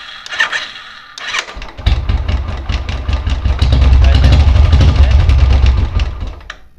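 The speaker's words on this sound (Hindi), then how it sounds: "सेल्फ मारने पे देखिए कैसा साउंड आएगा, खटक खटक" A Royal Enfield motorcycle cranks on its self-starter, the faulty one-way starter bearing giving a rattling knock, then the single-cylinder engine catches and runs loud and close with a steady thump, someone talking briefly at the start.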